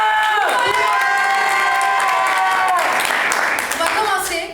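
A festival crowd at an 80s-themed party night in Brussels cheers and shouts loudly for the DJ, with sustained whoops turning into clapping, close and full.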